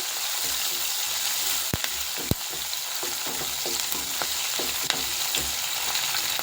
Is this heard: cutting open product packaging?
no